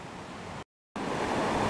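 The Mastigouche river rushes steadily in the forest, a broad continuous watery roar broken by a brief gap of silence before resuming, loud and close.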